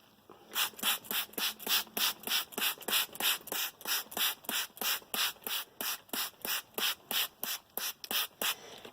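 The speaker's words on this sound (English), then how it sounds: "and then I'll give the back a good spray." A handheld spray bottle mists water onto a knitted garment in a rapid, even series of about seventeen short, crisp spritzes, each a bright hissing burst, close and clear with no talking.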